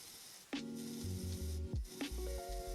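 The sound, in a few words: carbide burr shaving sprue mark off cast ring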